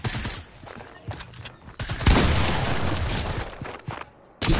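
Gunfire in a Fortnite match, a burst of rapid shots followed by sustained, dense, loud firing that fills the middle of the clip, with no voices over it.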